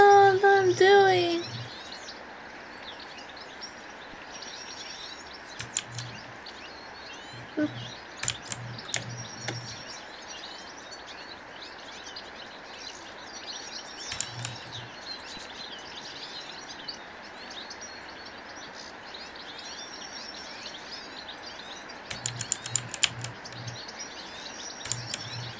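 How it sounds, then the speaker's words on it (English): Outdoor birdsong, with a few clear chirping calls at the start and scattered sharp tweets and short bursts over a constant hiss of background ambience, moderately distant. "Much bird sounds, exactly."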